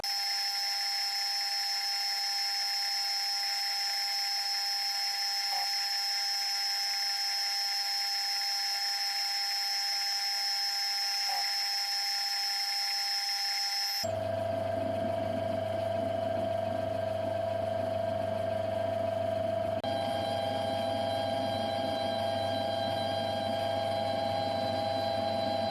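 A center cutting end mill squares the bottom of a hole in a bolt body for a lathe spindle sight glass under plenty of coolant at slow speed, a steady whining machining tone that deepens into a louder, lower drone partway through.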